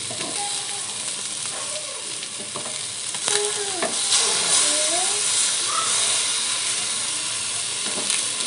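Lote fish fry in a pan with a steady, loud sizzling hiss, and soft scraping and stirring sounds rise over it now and then, close up with no voices.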